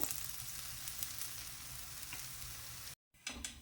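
Sweet potato thalipeeth fries in ghee in an uncovered pan, giving a close, steady sizzle that cuts out briefly and resumes with a few scraping sounds.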